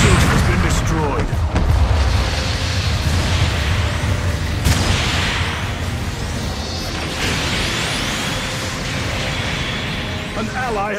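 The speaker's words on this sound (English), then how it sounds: "The mobile suit has been destroyed." A mobile suit blowing up in Gundam Battle Operation 2, with loud, continuous rumbling blasts, booms and mechanical clatter across the whole stretch, and game voices over the top.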